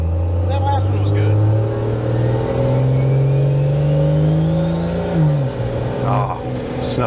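A turbocharged 1900-horsepower daily-driver car revs hard through a rolling burnout, its loud engine drone climbing steadily in pitch before dropping abruptly near the end.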